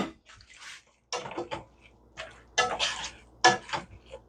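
Feta being mixed into quiche filling in a bowl, heard as uneven bursts of scraping and clinking from a utensil against the bowl, with short pauses between strokes and no talking.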